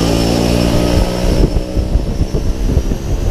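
Propeller airplane engine drones steadily and loudly on the ground at a skydiving drop zone before a jump, with a harmonic hum and low rumbling thumps throughout, no talk.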